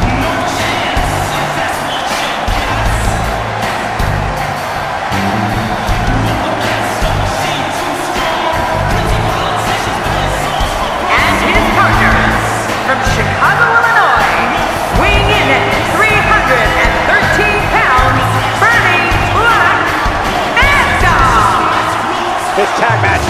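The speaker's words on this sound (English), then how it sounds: "This tag match has the crowd on its feet in anticipation." A video game arena crowd at a WWE 2K17 tag match roars and cheers continuously, swelling in waves with whoops and thuds, while commentary voices talk over it.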